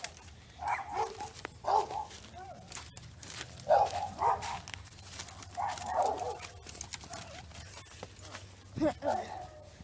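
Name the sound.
dogs barking in a modded video game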